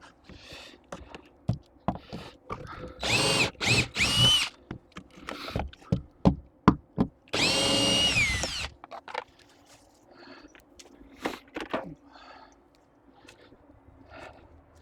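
Cordless power drill backing screws out of wooden barn siding, with two long, loud whirring bursts and a few shorter ones among clunks and knocks of handling the boards.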